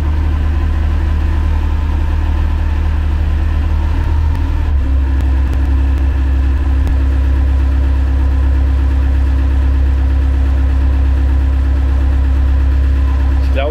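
An MB Trac tractor's engine idles steadily to build up air pressure, a loud, continuous low rumble with a deep drone that shifts slightly partway through and runs unbroken throughout.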